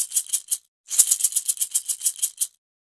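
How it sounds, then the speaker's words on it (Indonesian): Maracas are shaken in crisp bursts of bright rattling, first three quick shakes, then a brief pause and a steady run of about ten more, close and clear with no talking. "Marakas dimainkan dengan cara digoyangkan."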